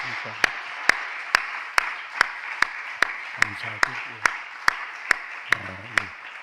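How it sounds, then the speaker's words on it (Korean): A church congregation claps in a steady unison rhythm of sharp, evenly spaced beats about twice a second, while someone speaks over the clapping. "하나님 감사하면서 박수로 영광 돌리겠습니다"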